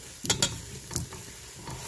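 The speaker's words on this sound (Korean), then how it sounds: "일단은 밤을 기름 두르고 먼저 볶아줍니다" Chestnuts stir-fried in oil in a pan: a soft, low sizzle broken by a few quick scraping stirs near the start and another around the middle.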